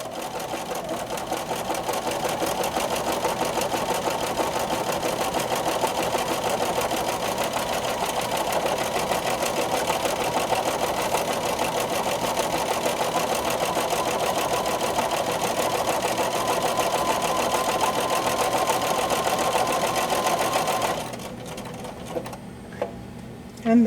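A Bernina sewing machine stitches a buttonhole with the 3A buttonhole foot, giving a steady, fast mechanical whir and rattle close by for about twenty seconds before stopping abruptly and leaving near silence.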